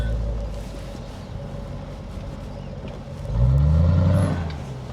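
A Range Rover SVR's supercharged V8 hums at moderate volume, then swells into a brief loud rev before easing back.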